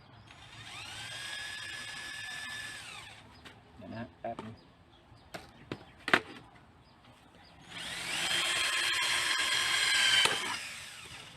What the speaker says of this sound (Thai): พอเสร็จแล้วเรามาเจาะรูครับ